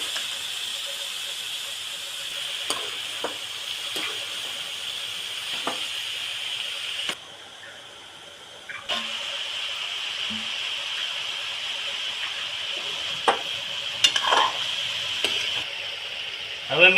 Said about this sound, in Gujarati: હવે આને તેલમાં સડવા દેવામાં આવશે, એટલે થોડુંક હલાવી નાખીએ